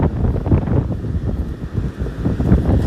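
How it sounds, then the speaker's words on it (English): Strong outdoor wind buffets the microphone in a continuous low roar that swells and dips, loud and close, with no speech. "Maybe I didn't think it was going to be this windy"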